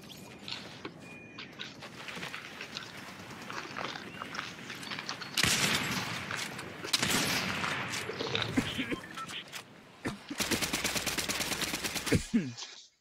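Fortnite gunfire crackles in scattered shots and short bursts, then a loud, rapid automatic volley near the end, with softer game noise in between.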